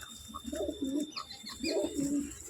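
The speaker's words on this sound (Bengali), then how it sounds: "এবার একটা নাপ্তা পায়রা দেখাচ্ছি" Napta pigeon cooing in two soft, rolling bursts, close by with a faint high hiss behind and no talking.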